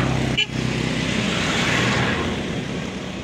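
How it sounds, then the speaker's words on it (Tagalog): Busy road traffic with vehicles passing, a continuous broadband roar of engines and tyres that swells slightly in the middle, close and steady. "ang busy ng mga yung mga sasakyan"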